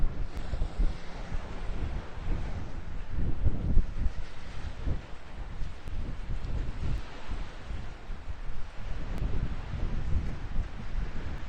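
Gusty wind at North Beach, Maryland, buffets the microphone with loud, uneven low rumbles. Waves or water are faintly audible underneath, and no one speaks.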